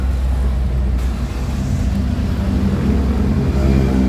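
A Hyundai Accent with a suspected EPS motor or computer box fault runs steadily up close, a loud continuous low engine rumble throughout with no clear separate cranking burst.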